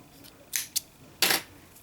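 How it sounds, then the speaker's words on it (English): Scissors snip through yarn at the end of a crocheted daisy flower: a few short, sharp cuts up close, including one quick double snip followed by a longer cut, in an otherwise quiet room. "And then cut your yarn."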